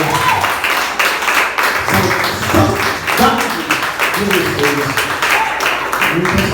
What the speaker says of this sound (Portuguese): Vocês podem aplaudir o Senhor mais forte também